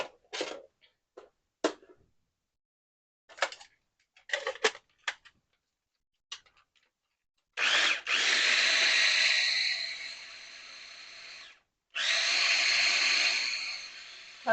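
A kitchen blender whirs loudly on deviled egg filling in two sustained bursts with a short pause between them, after a run of scattered clicks and clatter from preparing it.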